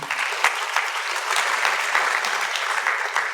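A church congregation applauds together in dense, even clapping that holds steady for a few seconds, close and fairly loud, with no speech over it.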